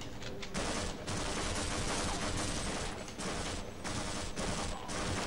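Sustained automatic gunfire fills the video game Half-Life, loud and dense, with only brief gaps between bursts.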